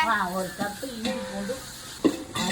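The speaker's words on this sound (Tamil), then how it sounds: "வெங்காயம் இந்த அளவுக்கு வதங்கணும் இஞ்சி பூண்டு பேஸ்ட் போட்டுக்கலாம்" Onions fry with ginger garlic paste in a pan for chicken biryani, with soft sizzling and the scrape of stirring under a voice that talks throughout.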